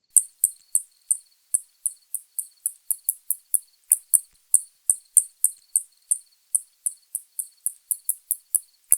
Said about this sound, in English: I'm going to attempt to play a spotted bat call right now